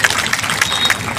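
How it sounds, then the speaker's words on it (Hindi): A crowd at a public gathering breaks into brief applause for the CO madam, a short burst of clapping. "जरा ताली बजा लो मैडम के लिए"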